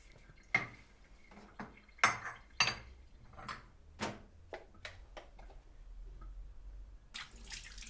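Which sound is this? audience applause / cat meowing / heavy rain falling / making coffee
making coffee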